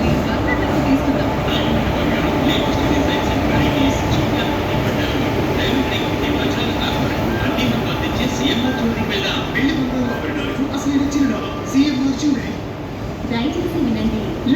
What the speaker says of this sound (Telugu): రైలు నంబర్ 1272 నిజాముద్దీన్ హైదరాబాద్ డెక్కన్ దక్షిణ ఎక్స్ప్రెస్ 3వ నంబరు ప్లాట్ఫామ్ నంబర్ రానున్నది.